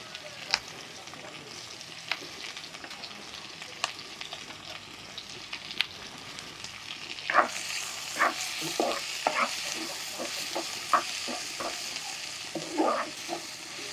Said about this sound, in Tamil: இதை கொஞ்சம் நல்லா ஃப்ரை பண்ணிக்கலாம்.